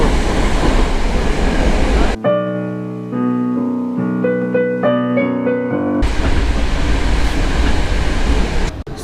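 Loud rushing noise of a Moscow Metro train breaks into a stretch of steady, layered musical tones, then the roaring train noise returns at full strength.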